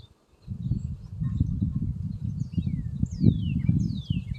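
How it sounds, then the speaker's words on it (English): Honeybees hum in a low, steady drone inside an open hive, close and continuous, with faint bird chirps overhead. "there's quite a few bees in here"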